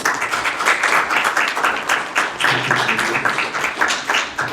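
A seminar audience in a room clapping steadily, a dense, lively round of applause that continues throughout.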